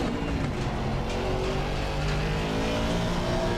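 An Aston Martin Vantage GT3 race car engine in a racing video game drones steadily at high revs, loud and continuous with no voices over it.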